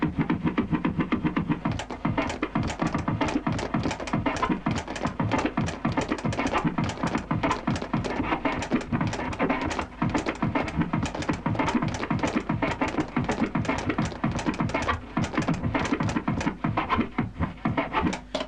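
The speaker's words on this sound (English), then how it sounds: "Beat chopping is basically getting the bass and the snare, and you're using the bass and snare to recreate your own rhythmic drum pattern" A DJ chops bass drum and snare hits on turntables into a new rhythmic pattern, giving dense, distorted, rapid-fire thumps and cracks with scratchy edges that stay loud and continuous throughout.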